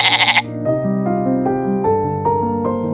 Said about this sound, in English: Goat.